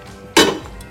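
A spoon knocks once against a metal pot while beef is stirred with sautéed spices, a single sharp clank that rings briefly, close and alone.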